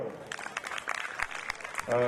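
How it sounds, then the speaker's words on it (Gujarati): Applause from a crowd at a Buddha Purnima community gathering in Mithapur, scattered clapping bursts at moderate volume under someone talking, before his voice takes over. "તાળીઓથી વધાવો"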